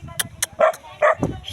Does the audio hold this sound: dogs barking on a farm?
yes